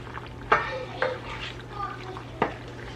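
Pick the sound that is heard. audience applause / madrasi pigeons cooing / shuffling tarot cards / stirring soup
stirring soup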